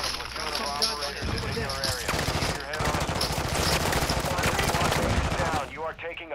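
Sustained automatic gunfire in a video game, with loud rattling bursts that go on almost continuously before stopping near the end, and voices talking over the shooting.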